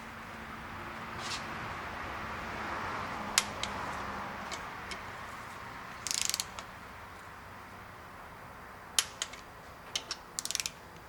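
Torque wrench tightening connecting rod bolts on a Jeep 4.6 liter stroker short block to 45 foot-pounds, giving a few sharp, sparse ratchet clicks in a quiet workshop, with a brief louder burst of clicking near the end.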